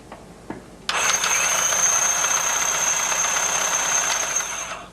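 An NC carpet binding machine, PBS or PBT model, starts after a couple of soft clicks and runs in a steady, fast mechanical whir with a thin high whine, close up and continuous until it eases near the end.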